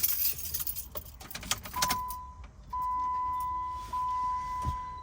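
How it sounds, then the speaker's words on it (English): A 2014 Jeep Wrangler Rubicon powering on: keys jangle close by, then a steady electronic chime tone holds with a short break, and a faint low thump comes near the end. "Car's turning on, radio's turning on"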